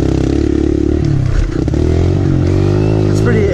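A Kawasaki KLX 140L dirt bike engine running steadily at high revs off-road at high elevation, loud and close throughout with a brief dip and rise in pitch.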